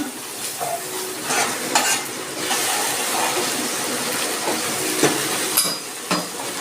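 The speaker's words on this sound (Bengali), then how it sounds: "এবার দিচ্ছি একটুখানি জল দিচ্ছি অল্প একটু চিনি" Spiced masala in a hot pan hisses and crackles as a little water and sugar go in, with repeated scraping stirs and small splutters through a loud, uneven sizzle.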